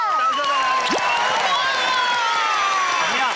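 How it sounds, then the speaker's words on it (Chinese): Children in a studio audience at a kids' coin magic show cheer and shout excitedly in a loud, sustained burst, with clapping mixed into the high-pitched voices. "掌声在哪里？"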